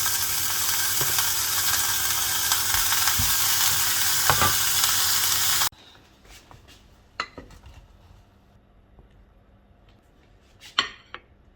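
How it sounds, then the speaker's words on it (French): Steak cooking in olive oil in a pan gives a loud, steady sizzle and fry for about half the time, then drops to quieter crackles with a few sharp utensil clinks and scrapes. "Du coup, je mets un petit peu d'huile d'olive. Et je fais cuire le steak."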